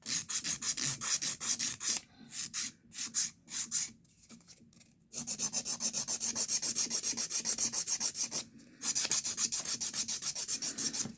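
An acrylic nail is hand filed in quick, rhythmic back-and-forth rasping strokes, close up, with a short run of slower uneven strokes and a pause before the steady filing resumes.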